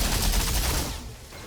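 Ashen bullets fire in a video game as a short, dense burst of rapid gunfire that stays loud and then tapers off after about a second.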